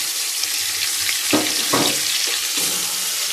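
Ginger garlic paste frying in a pan for Bengali chicken kosha, with a steady close sizzle and a few stirring scrapes on top.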